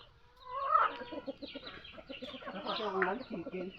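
Several chickens cluck and squabble close by while eating cooked rice, busy overlapping calls through the whole stretch, with a person talking quietly under them.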